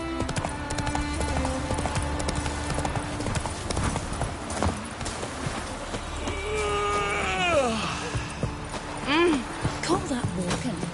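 In The Witcher 3 video game, a horse's hooves beat a steady rhythmic clip-clop throughout, with game voices talking over it and a horse whinny near the end.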